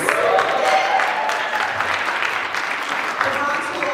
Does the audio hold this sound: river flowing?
no